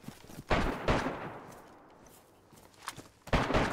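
A few sharp gunshot bursts ring out in the video game DayZ, two close together early and another pair near the end, separated by a quieter stretch.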